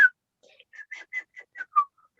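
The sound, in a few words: attempted whistling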